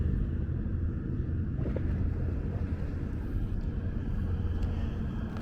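A ferry on the water near 59th Street in New York cruises by during a gusty thunderstorm, a steady low engine and water rumble blending with wind noise throughout.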